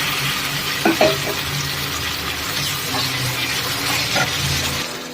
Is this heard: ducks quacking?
no